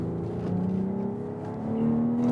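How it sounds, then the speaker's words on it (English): A BMW X3 M40i SUV's 3.0-liter inline six-cylinder engine revving, a steady smooth drone with rising pitch toward the end, heard close and alone without talk. "Oh man, that engine, oh, this is a gem of an engine."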